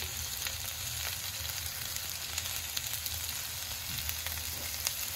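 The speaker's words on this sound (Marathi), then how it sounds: "नंतर मीठ टाकल्यानंतर चांगल्या प्रकारे भेंडी मिक्स करून घ्यायचं आहे" Okra (bhindi) sizzles steadily in a pan as it is fried with salt and stirred, a continuous close crackle broken by small scraping ticks of the spoon, with no voices.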